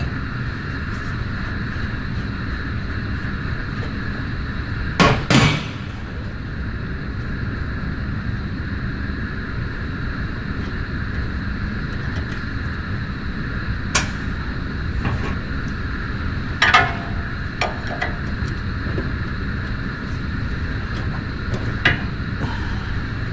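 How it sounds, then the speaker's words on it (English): Hammer blows knock apart the taper joint between an outer tie rod end and its steering knuckle on a rack and pinion. A few sharp metallic strikes come in scattered groups over a steady background hum. "we'll separate the taper joint for the tie rod to the actual tie rod itself"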